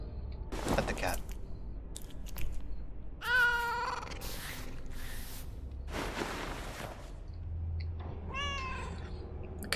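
A cat in the video game The Killing Stone gives several distinct meows spaced through the passage, with sharp thuds and bursts of noise between them over a quiet hum.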